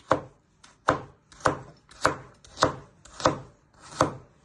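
Knife slicing through carrot on a cutting board, seven crisp, evenly spaced chops about every half second, close and clear with no talking.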